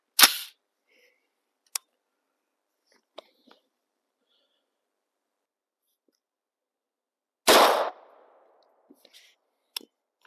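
Two sharp, loud rifle reports from 65 grain green tip 5.56 rounds striking a steel anvil outdoors, each a sudden crack with a short ringing tail, separated by several seconds with faint clicks and small knocks between.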